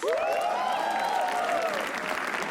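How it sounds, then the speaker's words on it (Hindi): Sustained crowd applause at a comedy roast greeting comedian Kunal Kamra, loud and continuous throughout, with a voice speaking over the start. "कुणाल कामरा के लिए तालियां प्लीज."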